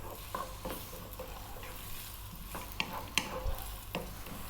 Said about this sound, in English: So we've just got the onions and garlic on the go.